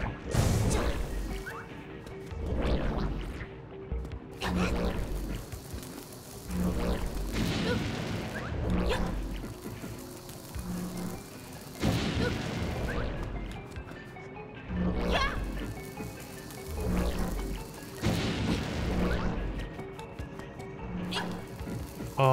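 Repeated loud bomb blasts from the video game Dink's Awakening, about eight heavy booming crashes spaced a couple of seconds apart, each with a sharp attack and rumbling decay, one after another without talk.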